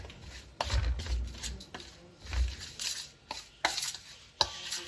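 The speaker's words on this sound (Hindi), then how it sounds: "चम्मच की मदद से इसको हमने कर लेना है मिक्स मुक्स।" A spoon scrapes and knocks around a bowl while chicken broast marinade is mixed into a paste, giving irregular close-up clatters and taps with brief pauses between strokes.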